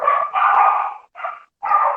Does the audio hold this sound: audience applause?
no